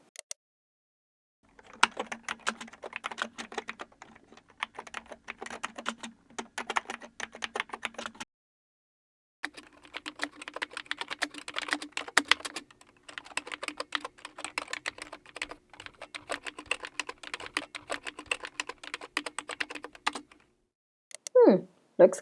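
Someone types on a computer keyboard while starting to write, a dense run of rapid key clicks broken by a short pause, up close and with no talk.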